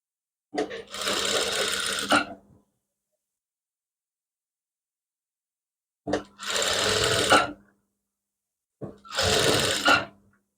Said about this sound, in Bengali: পেস্টিং এর নিচে দিয়ে সেলাই করবেন